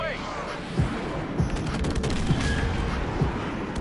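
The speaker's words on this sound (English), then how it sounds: "Friendly airstrike on the way." Friendly airstrike in a military shooter game: rapid bursts of gunfire and rumbling blasts form a continuous loud barrage, with some voice mixed in.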